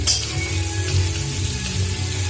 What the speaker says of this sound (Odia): ପିଆଜକୁ ତେଲରେ ଟିକେ ଭାଜିଦେବା।